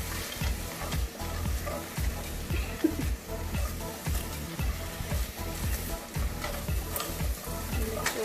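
Cubed capsicum and onion are stirred and fried in a pan, giving a soft continuous sizzle broken by regular scraping strokes of the spoon against the pan, quiet and close.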